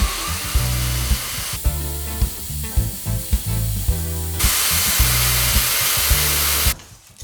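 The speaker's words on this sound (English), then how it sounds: "I've attached my belt sander to my workbench, upside down, just to sand this down a little bit more." Belt sander mounted upside down on a workbench sanding wood, loud broadband whir with repeated bursts as the piece is pressed on and lifted off, ending abruptly when the sander is switched off.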